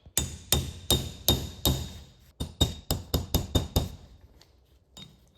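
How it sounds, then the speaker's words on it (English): A hammer taps on a metal part during a late-night repair of a gear oil leak on a truck. About fourteen sharp, close metallic strikes come in a fairly even rhythm, with short pauses between them and no talk. "it doesn't want to bounce out with every tap of the hammer"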